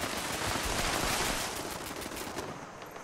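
Continuous turret gunfire in the video game Fallout 76 rattles as a dense, fast stream of shots for about three seconds, loud and close, easing slightly toward the end, with no talk.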